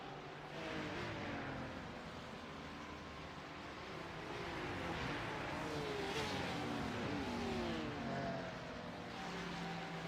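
A GT3 race car engine in a racing game at Hockenheim runs flat out down a long straight, a loud, steady high-revving drone that climbs in pitch and holds without a break.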